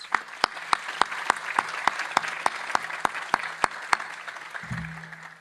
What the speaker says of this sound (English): Please give them a round of applause too, please.